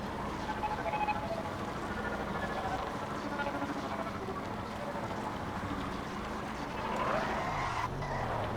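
A vehicle in the game Trailmakers spins out with a hovering traction glitch, giving a continuous rough skidding rush under the engine noise that swells briefly near the end.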